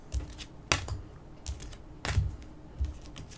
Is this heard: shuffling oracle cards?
yes